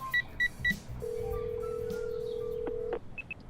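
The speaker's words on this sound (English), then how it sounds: "I find it in my phone and give her a call." A phone being dialed: a few quick touch-tone beeps, then a long steady ringback tone, followed by faint sparse beeps, heard close and alone.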